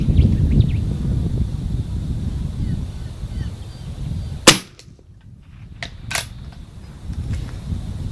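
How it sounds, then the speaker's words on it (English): A Cooey Model 78 .22LR rifle fires Remington bulk ammunition at a range, with one sharp crack followed by a second fainter report a couple of seconds later, close over a murmuring outdoor background. "I'll do 5 shots with Remington bulk"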